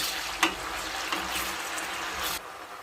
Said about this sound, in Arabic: ونحطوا البطاطا نقليوها كما قلت لكم زاده في وسط زيت سخون